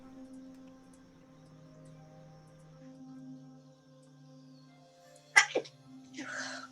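A single sharp sneeze bursts out close and loud over a quiet hum of room tone, quickly followed by a brief breathy sound.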